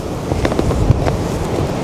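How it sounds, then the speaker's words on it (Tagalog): Strong wind gusts roar during heavy snowfall in Sapporo, a loud, continuous blustery rush buffeting the microphone, with no one speaking. "Nakakatakot, sobrang lakas ng hangin, may tunog."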